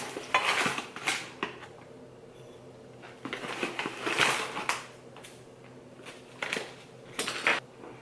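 Two tablespoons of sugar tipped into a mixing bowl while making cheese tea, heard as light scattered clinks of a metal spoon against the bowl with soft granular pattering, close and fairly quiet, no talking.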